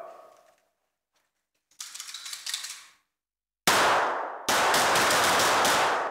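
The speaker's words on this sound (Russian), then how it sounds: "Один из самых напряженных этапов – стрельба из пистолета Макарова" Makarov pistol shots ring out at a women's police shooting contest, several sharp loud reports with ringing tails after quieter clattering, close and with no talking.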